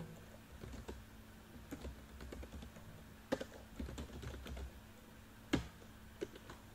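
Typing on a computer keyboard while entering a self-help group profile into a data form, heard as faint scattered keystrokes with a few sharper taps, quiet and close with no talk.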